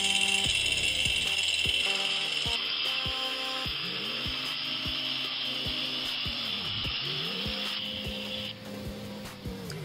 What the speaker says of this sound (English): We're using the buffer just to get the final part off, just to get that really deep cut and actually cut into the paint a little bit